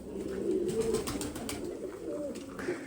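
Pigeons in a new loft cooing in low, continuous murmuring notes, close by and moderately loud, with no talk.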